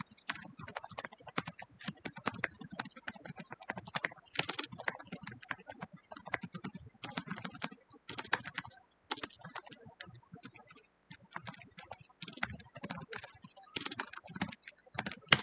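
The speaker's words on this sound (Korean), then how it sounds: "한 줄을 쳐볼게요." Rapid typing on a computer keyboard while entering a line of text into a typing-speed program, with dense, irregular clicks of keys sounding close and fairly quiet.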